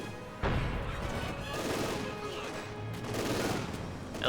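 A light machine gun fires at conscripts in Company of Heroes 2, dense rattling bursts mixed with explosions and battle noise, sustained and fairly loud across the whole stretch.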